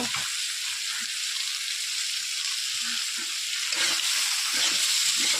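Steady sizzling of frying in a pan, with soft scraping and stirring sounds scattered throughout, fairly quiet and continuous.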